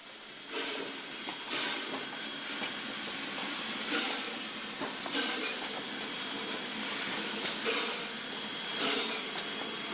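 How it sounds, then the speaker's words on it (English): A Conway Scenic Railroad passenger train rumbles and hisses steadily at moderate distance, with rhythmic clattering pulses as it rolls in. "the first passenger train of the day is about to arrive"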